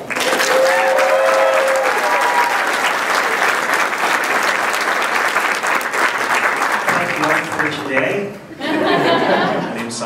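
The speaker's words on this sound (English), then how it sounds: "join me in giving a round of applause" A convention crowd at Phoenix Comicon 2014 applauds loudly and steadily for several seconds, a dense wash of clapping that briefly dips, resumes, then fades with some cheering.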